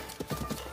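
Horse hooves clip-clop in a quick galloping rhythm of several soft, close thuds while riding through Hyrule in Zelda: Breath of the Wild, brief and fairly quiet.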